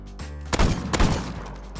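Video game gunfire from a powerful weapon, with two sharp, loud bursts followed by a rumbling tail, close and without speech.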